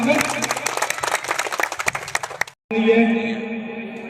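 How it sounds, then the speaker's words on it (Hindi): Hearty crowd applause welcoming a legislator at an outdoor public function in India, steady clapping for about two and a half seconds before a brief gap, followed by a voice speaking. "एक बार जोरदार तालियों से विधायक महोदय का स्वागत"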